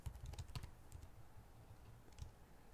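Keys clatter on a computer keyboard in quick bursts and then sparser taps, close but quiet, with no voice over them.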